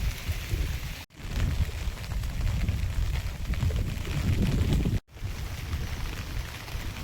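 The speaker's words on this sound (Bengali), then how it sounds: "বৃষ্টিটা বন্ধ আর হচ্ছে না, জোরেও হচ্ছে না, বন্ধও হচ্ছে না, ঝিরঝির করে পড়েই যাচ্ছে।" Steady light rain drizzling down during a heavy monsoon, an even, continuous hiss of falling drops with no change in intensity, briefly cut off twice by abrupt gaps.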